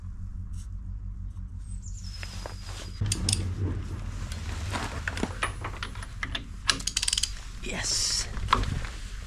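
A long socket wrench ratchets during excavator repair: soft, quick clicking runs through the clip, over a steady low engine-like hum that grows louder partway through.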